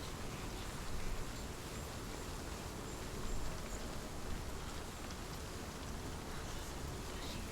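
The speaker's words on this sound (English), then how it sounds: "The rain is just coming down worse and worse as I progress too." Heavy rain falls in Hellblade: Senua's Sacrifice, a continuous broadband hiss with a couple of slightly louder gusts, and no voices over it.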